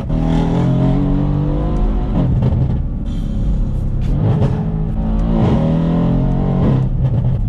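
A 510-horsepower Mercedes C63 AMG idles with a deep, loud rumble, then the throttle is blipped in several sharp revs that swell and fall back, close up and with no talking.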